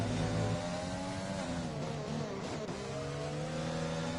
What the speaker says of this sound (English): JC Blackley with DRS coming back down that straight from Sector 2 now into Sector 3